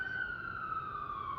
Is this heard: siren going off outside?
yes